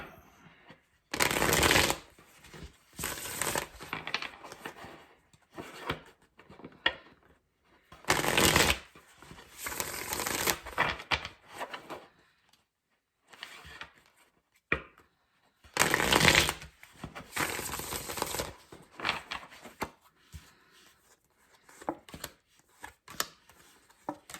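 Tarot cards are shuffled in several quick riffling bursts separated by short pauses, close and crisp against near silence.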